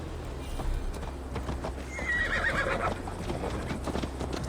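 Horse neighing over rhythmic clip-clopping hooves in the Viking-era video game Assassin's Creed Valhalla, a fairly close whinny in the middle of a steady gait and a low background hum, with no voices.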